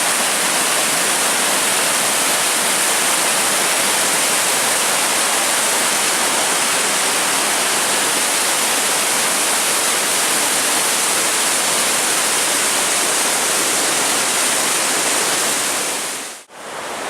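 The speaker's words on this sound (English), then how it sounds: "It's like one endless view after another of these awesome rapids, waterfalls." Rapids and waterfalls along the Superior Hiking Trail roar in a steady, loud, unbroken wash of rushing water that fills the whole stretch, ending with a brief dip near the finish.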